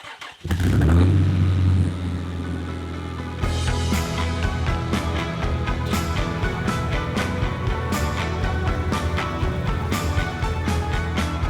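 Nissan Pathfinder engine starting up with a loud rumble, then idling and rolling steadily off jack stands; a close, continuous mechanical drone with some rattles and clunks layered over it.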